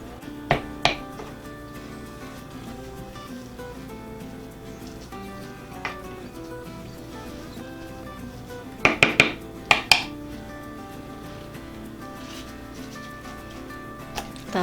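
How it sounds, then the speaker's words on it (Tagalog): Mashed banana being stirred for nilupak, a Filipino banana sweet, with a utensil scraping and knocking against a pot or bowl, several sharp clinks in small clusters over a soft steady kitchen background. "Ngayon po ay hahaluin na natin yung ating saging na nadurog na."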